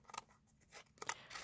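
Scissors snip paper while following a drawn outline, a few quick, soft close cuts in an uneven rhythm, faint and alone.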